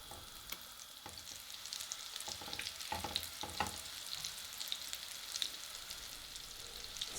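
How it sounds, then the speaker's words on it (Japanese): Butter and sliced apples sizzling in a hot frying pan, a steady close crackle with occasional sharp pops and stirring touches, no one speaking. "フライパンに火をつけて温めながらバターを溶かしていきます"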